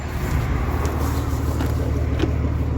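A Cummins 6.7 diesel service truck pulls away, giving a steady, close engine drone with a heavy low rumble and road noise all through it, and no voices over it.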